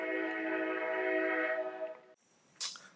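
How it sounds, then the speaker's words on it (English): A passing train sounds a long, loud, steady horn blast for about two seconds, then cuts off abruptly, leaving quiet with a brief faint sound afterward. "I hate living here because trains just go and..."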